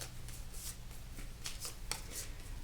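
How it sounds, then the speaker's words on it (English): A deck of game cards being shuffled at a table: a steady riffling, papery rustle with a few sharper snaps, continuous and close, no talking. "I'm just gonna shuffle these"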